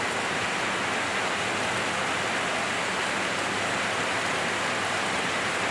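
Steady rain falls outdoors in a dense, even hiss that holds constant throughout, with no voices.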